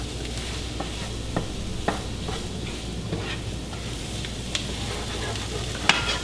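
Scrambled eggs are stir-fried with vegetables for chicken fried rice, giving a steady close sizzle broken by the scrape and clack of a utensil against the pan every second or so.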